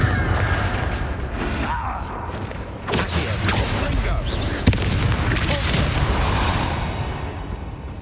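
Bombarda and Confringo spells explode in the video game Hogwarts Legacy, giving booming blasts and creaking, rumbling debris in a dense, loud mix, with a voice shouting spell names over the top.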